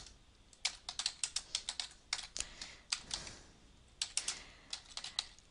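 Resource names are typed on a computer keyboard: crisp, close key clicks in quick bursts with short pauses between them, and no one talking.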